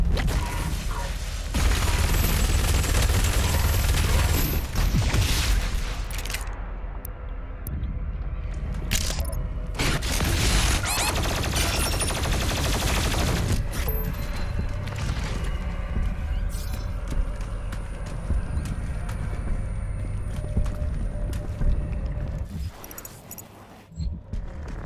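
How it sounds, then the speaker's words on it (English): Chaingun fire in DOOM Eternal comes in dense, loud mechanical bursts with short gaps, mixed with gameplay impacts and effects. "Chain gun."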